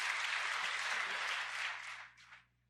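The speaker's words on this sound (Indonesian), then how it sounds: "Berikan tepuk tangan dulu" Steady applause from a church congregation at a Sunday service, dense and sustained for about two seconds before thinning out and trailing off into a few last claps.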